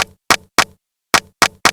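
Six dry snare drum hits in two groups of three, loud and close, each a sharp crack with a quick decay, separated by silence.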